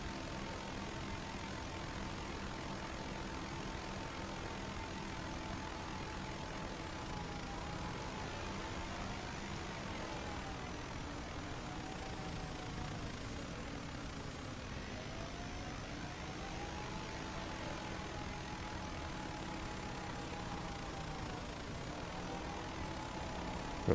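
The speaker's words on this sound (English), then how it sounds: "I wish this drone was a bit faster." A camera drone hovers nearby with its propellers giving a continuous, steady buzz and hum for the whole stretch, with slight wavering in pitch and no voices.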